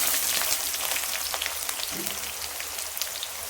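Mustard seeds, cumin and onion frying in hot oil for a kovakkai poriyal, giving a dense, even crackling sizzle with faint scattered pops, close and steady, with no voices.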